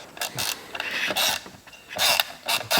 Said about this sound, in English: So let me grab my ratchet and deal with that.